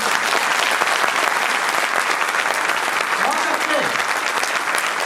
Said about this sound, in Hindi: आप सब हमारी स्पेस एजेंसी, अंतरिक्ष की संस्था इसरो के लिए जोरदार तालियां दें।